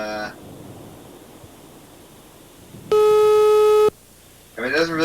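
A telephone busy signal sounds as a loud, steady electronic tone for about a second, set between faint stretches of background hiss and brief bits of speech at the start and end.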